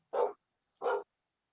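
Two short, clear barks from a small dog, evenly spaced and close, with silence between and after.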